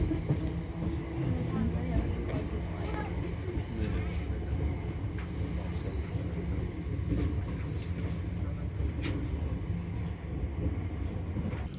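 A Class 455 electric train rumbles steadily along the rails near Wimbledon, joining the main line, with wheel clatter and occasional squeals, heard from inside the carriage throughout.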